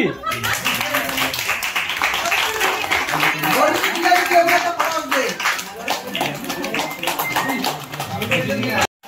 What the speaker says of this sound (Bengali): সূর্য, জোরে হাততালি।